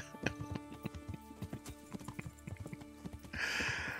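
Horse hooves clip-clop in the medieval video game Kingdom Come: Deliverance, a steady run of hoofbeats at moderate loudness with a brief whinny-like burst and rising hiss near the end.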